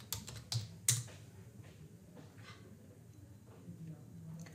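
Computer keyboard keys clack in a short burst of a few quick strokes near the start, close and fairly faint, followed by quieter room tone with occasional light clicks.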